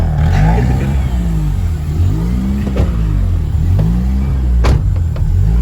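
Honda Civic fitted with a K20Z1 engine accelerating on a test drive, a steady loud engine drone rising and falling in pitch through several gear pulls, heard from inside the car.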